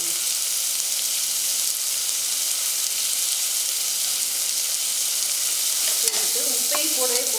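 Sambar powder, turmeric and salt sauté in a hot pan for rice and lentil dish, a steady close sizzle and hiss throughout, with a few utensil clinks and stirring sounds near the end.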